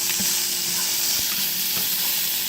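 Diced ham sizzles and crackles steadily in oil in a hot pan while being stir-fried for ham fried rice, with occasional stirring scrapes, close and continuous.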